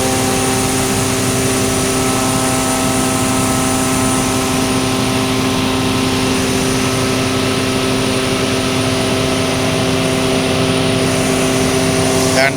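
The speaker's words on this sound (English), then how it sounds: "This is an instrument air compressor." Instrument air compressor running inside a thermal power plant, a loud steady mechanical drone with sustained tonal whine layered over broadband machine noise, constant and close throughout.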